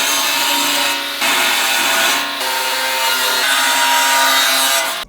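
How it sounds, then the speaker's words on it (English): Steady, loud power-tool cutting through a metal plate for a custom shifter on a Datsun drift car, a continuous harsh grinding rasp with brief dips between passes, close and alone with no talking. "so now let's cut it out of metal"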